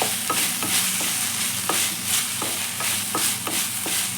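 Chicken sizzles in a pan with soy sauce while a spoon scrapes through it in quick repeated strokes, a steady close frying hiss broken by regular stirring scrapes.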